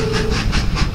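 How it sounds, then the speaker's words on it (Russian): A cartoon train in a Halloween children's cartoon rolls along with rhythmic clickety-clack beats and a hissing wash of noise, four quick pulses in a row. "Поезд по имени Трой"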